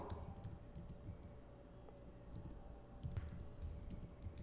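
Fingers typing code on a computer keyboard, a soft, fairly quiet run of irregular key clicks with small bursts and pauses.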